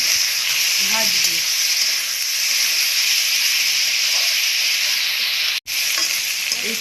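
Rice frying in oil with a bay leaf gives a continuous close sizzle and hiss that stays loud and even. A stir or scrape sounds once, and a short break in the sound comes near the end.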